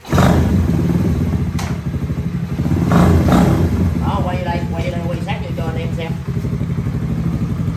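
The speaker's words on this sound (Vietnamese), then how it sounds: "để mình test máy cho anh em nghe" A Honda 110cc motorcycle engine, on a Honda 67 or Honda 72 bike, runs steadily at idle during a test with a loud, continuous close-up drone while someone speaks over it.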